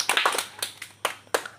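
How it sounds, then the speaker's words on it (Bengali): A handful of sharp hand claps, scattered and uneven, rather than a sustained round of applause, ringing out briefly at an event. "তার জন্য একটা জোরে হাতে তালি দাও"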